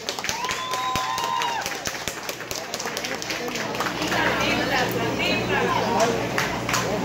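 A nightclub crowd at a Halloween party claps and cheers for a performer, the applause dense and continuous under loud chatter and shouting voices, with the whole room busy throughout.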